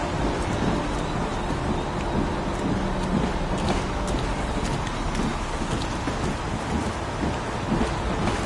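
Heavy rain pours in the video game Heavy Rain while thunder rolls in the background, a dense, constant wash of drops with deep rumbles and no voices.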